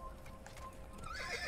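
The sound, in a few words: horse neighing and hooves in Assassin's Creed video game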